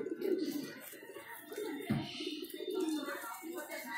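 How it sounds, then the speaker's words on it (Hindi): Pigeons in a Bhopal loft coo softly in repeated low rolling calls, fairly close, with faint voices in the background. "कबूतर भी अच्छा है"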